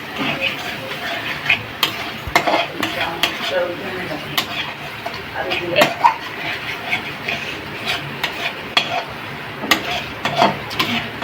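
Raw spice paste stirred as it fries in oil for stuffed pointed gourd (potoler dolma), with a steady low sizzle and frequent spoon scrapes and clinks against the pan, close and fairly busy.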